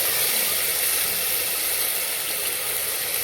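Tomatoes hit hot oil in a pan while misal is being cooked, giving a steady, loud, continuous sizzle and hiss that holds evenly throughout with no pauses.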